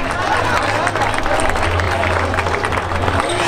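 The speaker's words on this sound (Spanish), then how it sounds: "Venga, ese aplauso." A crowd applauds the winner at a Futurobike cycling race in San Juan, a steady dense wash of clapping held at close range for several seconds, with faint crowd murmur underneath.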